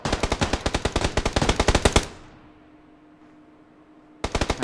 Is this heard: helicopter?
no